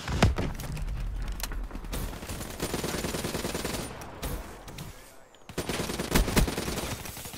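Call of Duty Black Ops 3 gunfire, loud rapid automatic bursts rattling almost continuously with brief pauses between volleys.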